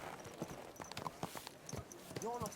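A horse's hooves clip-clop at a walk in Kingdom Come Deliverance 2, steady close hoofbeats under a quiet voice, ending in a brief whinny-like tone.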